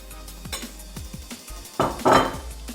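A spoon stirs a dressing of pomegranate molasses, olive oil and vinegar in a bowl for a purslane salad with walnuts and cheese, making repeated close clinks and scrapes with a louder rattling swirl near the end.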